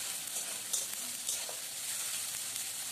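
Tomatoes fry in a pan with spices until mushy, giving a steady, close hiss and sizzle with faint stirring scrapes throughout.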